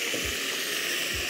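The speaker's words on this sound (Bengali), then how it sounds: "আমাদের তেলটা গরম হয়ে গেছে। এখন আমরা যে বিফটাকে ম্যারিনেট করে রেখেছি, বিফটাকে আমরা আস্তে আস্তে ঢেলে দিব।" Marinated beef sizzles as it is poured into hot oil for Korean beef, a steady bright frying hiss with a couple of soft low thumps, brief and close.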